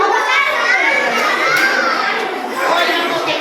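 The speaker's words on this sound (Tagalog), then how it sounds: "Hoy, mga bata, huwag maingay" Noisy children playing together, a dense, steady wash of shrill young voices and shouts that stays loud and close throughout, like a busy crowd of kids nearby.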